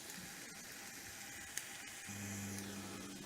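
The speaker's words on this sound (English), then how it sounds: "While our shallot's sauteing" Shallots sauté in a pan with a faint, steady sizzle and crackle, with a soft clink partway through and a low hum joining near the end.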